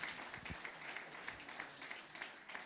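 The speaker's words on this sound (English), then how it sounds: "a warm round of applause" An audience at a leadership dialogue event claps steadily in a continuous, moderately distant wash, with a few low thumps at the start.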